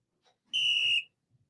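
A single loud, sustained referee-style whistle blast played from a recording as a stand-in for a coach, lasting about half a second and heard alone with only faint background noise.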